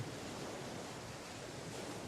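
Gentle sea waves washing over pebbles and shells on a calm shore, a steady, even wash of surf with a faint windy hiss and no voices.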